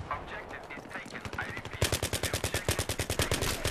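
Rapid, evenly spaced UMP submachine gun shots in Battlefield 3 fire in a long burst, loud and close, after scattered quieter shots at the start.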